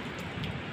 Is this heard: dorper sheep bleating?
no